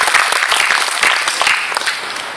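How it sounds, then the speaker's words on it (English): Audience applause fills a conference hall, steady dense clapping from many hands sustained throughout at close range. "If you're the lone one, then we all get to clap for you."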